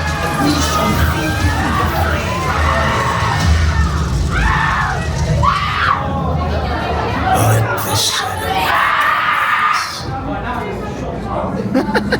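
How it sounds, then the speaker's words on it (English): A crowd at the Wicker Man ride pre-show at Alton Towers fills a cramped indoor space with loud chatter, shouts, cheers and scattered screams. The sound is continuous and dense throughout. "Always gets a good crowd reaction there"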